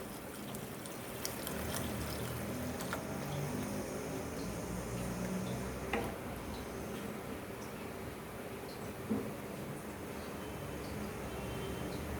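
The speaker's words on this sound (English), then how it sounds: "We are putting hot water." Hot water pours steadily into a misal cooking pan in a home kitchen, a continuous close trickling wash with a few small clinks, and no talk over it.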